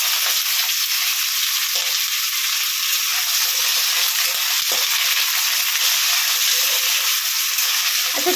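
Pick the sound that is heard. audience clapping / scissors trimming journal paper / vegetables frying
vegetables frying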